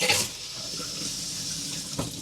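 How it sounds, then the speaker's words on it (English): An RV faucet runs after being turned on, a steady close splash of water into a tub or sink with a brief louder gush at the start, no speech over it. "I'm going to go ahead and turn the faucet on for a second just to make sure I get that water up to the faucet"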